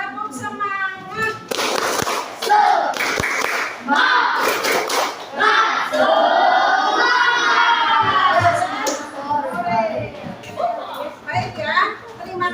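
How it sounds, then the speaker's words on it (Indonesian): A classroom group claps a rhythmic spirit clap in quick bursts, mixed with children's voices and a teacher talking, all close and loud. "Tepuk semangat."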